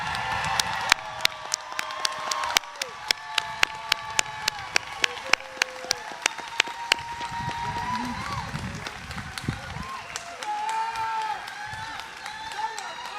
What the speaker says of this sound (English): Would everyone please join me in another round of applause for this wonderful class of 2025.